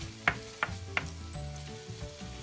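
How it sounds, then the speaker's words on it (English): Onion and garlic sautéing in a pan: a steady soft sizzle with three sharp stirring clacks early on and lighter scrapes afterward, close and fairly quiet, with no talking. "So after the onion, we're going to put in the garlic. So we will just saute them for a minute."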